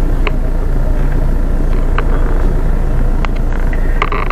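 Steady road traffic at night rumbles loud and unbroken, with vehicles droning past close by and a few faint clicks on top. Nobody speaks.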